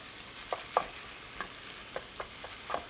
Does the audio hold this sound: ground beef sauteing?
yes